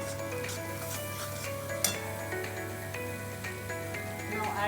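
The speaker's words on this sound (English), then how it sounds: "I've been stirring it last 5 minutes" A thick mixture is stirred in a pot with a faint sizzle and soft scraping, plus a few light clinks of a spoon against the metal.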